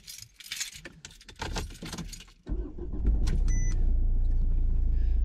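Car keys jangle in bursts close by, then an engine starts and settles into a steady low rumble with a faint beep.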